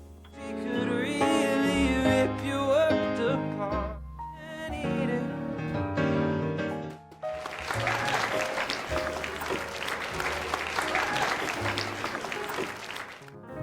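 A song with piano accompaniment in a film ends, and a loud, dense burst of audience applause follows, filling the rest of the moment steadily.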